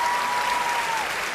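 A studio audience at a televised singing competition bursts into a round of applause for a contestant who sang in cải lương style, a brief dense patter of clapping with a sustained tone running beneath.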